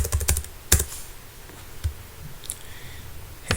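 Arrow keys tapped on a computer keyboard in a series of sharp, close clicks, clustered in a quick burst at the start and followed by a few sparser presses.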